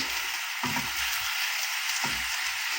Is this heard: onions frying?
yes